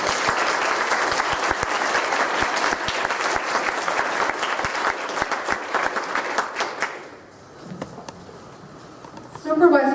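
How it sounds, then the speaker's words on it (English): An audience at an evening candidates' forum for 5th District supervisor claps steadily for about seven seconds, the applause dense and full before fading to quiet murmuring, then a brief burst returns at the very end. "Let's give them a round of applause."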